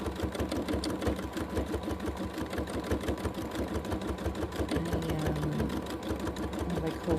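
A sewing machine doing free-motion quilting runs with a steady rapid needle rhythm up close, with the motor humming continuously and only slight shifts in pace as the stitching stops and starts.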